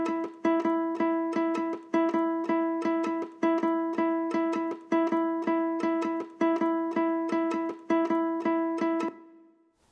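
Looped nylon-string guitar phrase, a repeating plucked pattern of bright, sustained notes that cycles steadily several times and then fades out near the end, with no voices.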